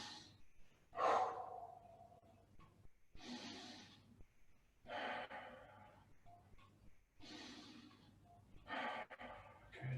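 Slow, deep breaths during a Pilates class, several separate inhales and exhales heard close and soft, with quiet pauses between them.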